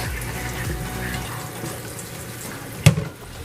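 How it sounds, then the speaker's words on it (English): Tap water runs over halved fresh tomatoes in a sink, a close, steady rinsing hiss that fades, then a sharp clunk and a few small splashes near the end. "I'm just gonna use some water to rinse these,"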